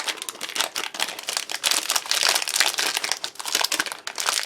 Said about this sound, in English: So we've got the sweet biscuits as well there. Nice foil packaging.